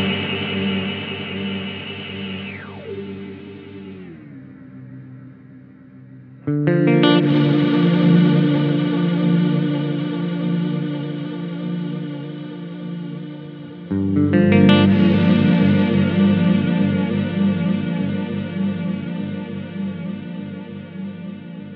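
An electric guitar plays through an EarthQuaker Devices Transmisser reverb pedal, and lush sustained chords swell with chorus-like modulation. One chord fades into a darker, pitch-bending wash before two fresh strums ring out and decay slowly, with no voices.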